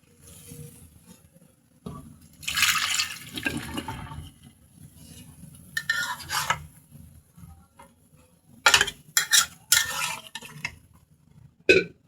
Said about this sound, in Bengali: আমি এখন লাউগুলোকে সুন্দর করে মশলার সাথে মিশিয়ে নেব।